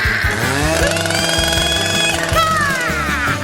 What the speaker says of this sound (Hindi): मुझे इसे काटने के लिए किसी विशेष औजार की आवश्यकता होगी, जैसे कि यह आरी। चलो अब काटती हूँ।